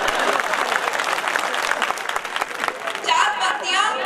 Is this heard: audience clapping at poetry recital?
yes